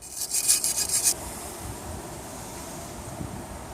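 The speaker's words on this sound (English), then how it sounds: "I like to clean the contact surfaces that the brake pads will be riding on with a wire brush." A wire brush scrubs the pad contact surfaces of a Ford Escape front brake caliper bracket in a quick gritty burst of rasping strokes lasting about a second, followed by quiet background hiss.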